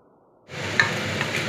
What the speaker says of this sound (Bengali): এবার ডিম ফেটিয়ে ডিম ফেটানোটা দিয়ে দিচ্ছি